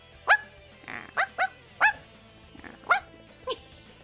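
A person's voice imitates a chihuahua barking, giving about seven short, sharp yips in an uneven rhythm, close and fairly loud, with brief quiet gaps between them.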